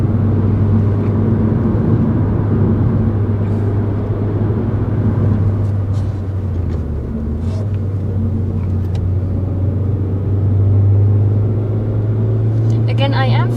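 Suzuki Swift Sport (2012) hatchback engine droning steadily under full throttle while climbing a steep mountain road, a continuous close cabin rumble with someone talking over it.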